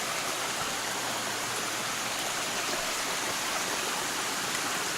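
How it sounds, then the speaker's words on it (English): A small stream cascades at a trail crossing on the Coosa Backcountry Trail, producing a close, constant rushing hiss of falling water with no voices. "Water cascading out."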